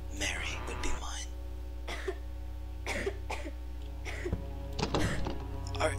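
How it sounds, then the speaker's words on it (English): A character's short cough in a horror video game, a few dry throaty bursts spread over several seconds against a low steady background hum, with faint breathy sounds between them. "Yes, it's just a cough."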